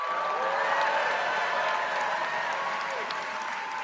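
A crowd claps and cheers at an election vote count, a steady wash of applause and cheering at loud, even level throughout with voices mixed in.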